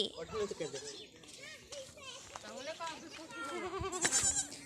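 Goats and their young kids being brought home bleat repeatedly at close range, with overlapping calls that rise and fall, mixed with children's voices talking nearby.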